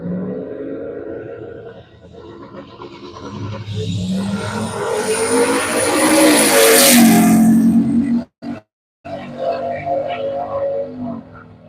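A convertible Ford Mustang makes a drag racing run at U.S. 131 Motorsports Park, its engine roaring loud and close as it climbs through a rising, building pull before a brief cut-out and resumed roar.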